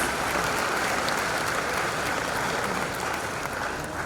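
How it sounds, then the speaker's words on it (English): Broad, even applause from an audience at a university vice-chancellor investiture ceremony at KNUST, Ghana, moderately loud and sustained throughout without any speech over it. "clap for him"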